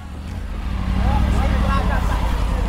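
A motorcycle engine hums and rises in pitch while riding, a steady nearby drone that builds over a couple of seconds, with people chatting over it.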